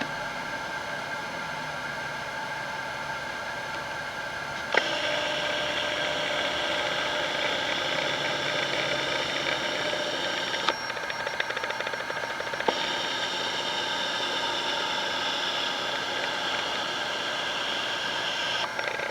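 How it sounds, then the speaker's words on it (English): The zoom motor of a Canon Vixia HF-R800 camcorder running, a thin, steady whirring whine that shifts pitch abruptly a few times over a constant hiss. "then I will zoom and you'll hear the zoom motor as well"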